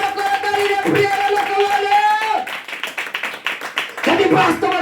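A church congregation claps loudly in praise of Jesus Christ, rhythmic hand claps following a sung or chanted voice, with singing returning near the end.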